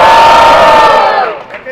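Loud crowd cheering and shouting at a street rap battle in São Paulo, a dense roar right at the start that fades over under two seconds.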